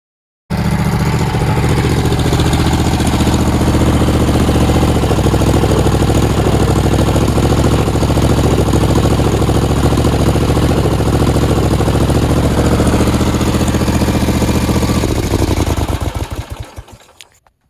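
A Sears 35 hp tractor engine on its first test run starts abruptly and runs loud and steady with a rough, rapid chugging throb, then cuts off and winds down near the end.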